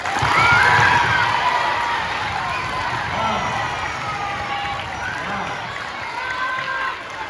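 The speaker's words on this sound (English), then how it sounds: "give those set of students a rousing applause" A school audience cheers and whoops loudly at first for sixth-grade students, then the noise settles into a steady murmur of clapping and chatter from a large audience.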